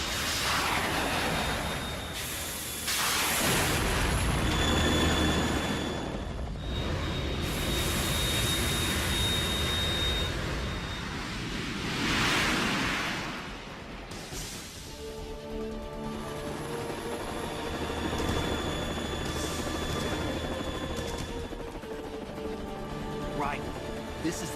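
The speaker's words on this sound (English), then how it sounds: "You have to shoot the Harrier down." A Harrier jet fighter in the video game Metal Gear Solid 2 roars with loud, sweeping jet-engine whooshes that rise and fall, mixed with game sound effects and music, while voices talk over it.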